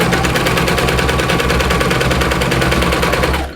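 A Babylock Vibrant serger sewing a lettuce rolled hem on fabric, running loud, close and steady as one fast, rattling mechanical whir that stops abruptly at the end.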